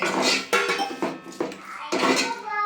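A metal spoon scrapes and clanks against a pot as vegetable pulao masala is stirred, with repeated rhythmic strokes close up.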